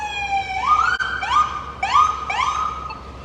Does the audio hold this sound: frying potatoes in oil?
no